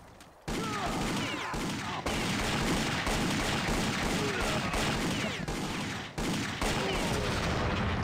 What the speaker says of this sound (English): The shots were hitting the tree.